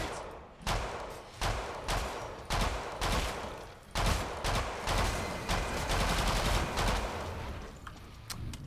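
Killing Floor 2 combat: rapid volleys of gunfire and heavy blasts from shotgun fire and thrown grenades, loud and dense in repeated bursts, no speech.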